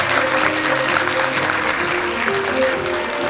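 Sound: applause at a school graduation ceremony

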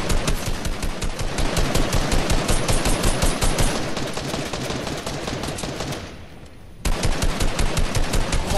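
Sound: gunfire in the video game Fortnite

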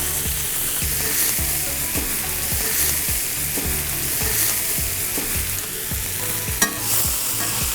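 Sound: onions sauteing in an oversized pan with steak juices

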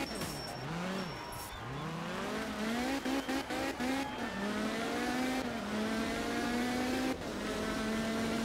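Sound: rally car driving in the video game art of rally

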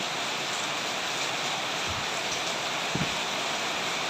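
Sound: rain falling

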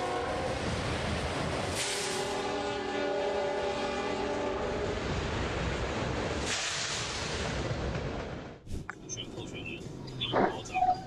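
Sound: train passing with horn at a crossing

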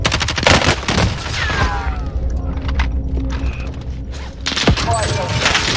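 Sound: gunfire in the video game Call of Duty: Warzone

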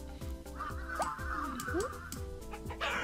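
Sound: chicken clucking in the video game Montaro

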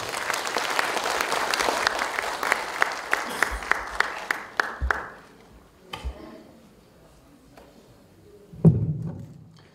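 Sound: audience applause

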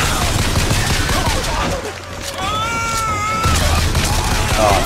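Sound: gunfire from video game BioShock Infinite

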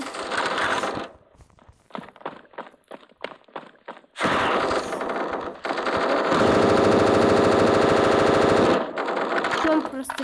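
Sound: automatic rifle gunfire in a video game

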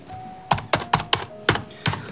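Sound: typing on a computer keyboard

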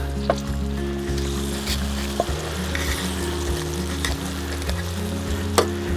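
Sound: fish frying in a pan

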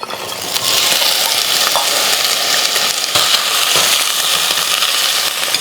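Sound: sautéing eggplant pieces with shallots and onions for sambar

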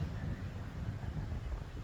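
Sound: wind blowing outdoors at a riverside pier

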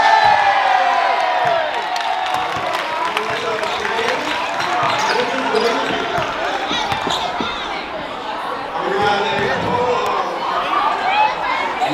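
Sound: applause and cheering from audience in school gym

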